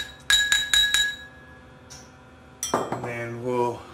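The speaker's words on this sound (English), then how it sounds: "put a tablespoon or a teaspoon silver in there, stir it up." A spoon clinks against a glass while stirring in colloidal silver, with three sharp ringing taps, then a pause and a further clatter of metal on glass, close and clear.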